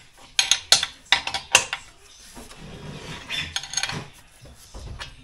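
Ratchet spanner tightening bolts on a steel conservatory frame, with sharp metallic clicks in a quick cluster early on, then softer scraping and knocking as the bolt seats.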